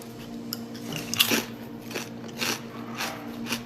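Crisp nori tempura seaweed snacks crunch between the teeth, several sharp, close bites and brittle crackles spaced unevenly over a quiet background, with no talking.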